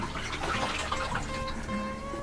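Water draining from a sink down into a grey water tank in a converted camper van, a steady trickling wash that runs continuously for a couple of seconds, close by and moderately quiet.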